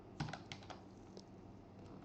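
A short burst of keystrokes on a computer keyboard as a username is typed at a Windows 10 login, quiet and close with a few separate taps and no talking.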